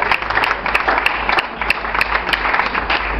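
A church congregation breaks into steady applause and clapping during a sermon, a dense, continuous patter of many hands with sharper individual claps popping out, filling the room with no talk over it.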